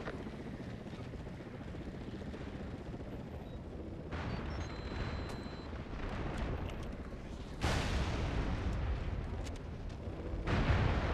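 Bomber airstrike explosions in the PS3 shooter MAG, during an assault on a bunker at a research facility: a continuous heavy rumble of blasts and battle noise, swelling into louder booming surges near the end.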